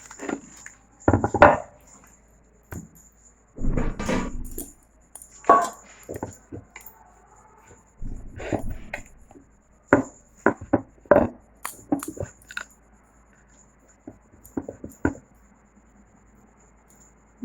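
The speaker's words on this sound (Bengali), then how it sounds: "এবার লেচিটা কেটে নেব।" Knife cutting dough balls into pieces on a board, a series of separate sharp knocks and taps in irregular rhythm, close up and alone with quiet pauses between strokes.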